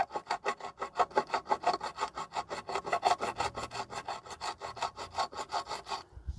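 Wet whetstone rubbed on a corroded BMW alloy wheel rim beside the tyre, a steady rhythm of about four rasping back-and-forth strokes per second, close and fairly loud, stopping abruptly at the end.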